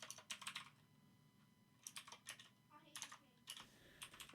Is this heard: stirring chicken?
no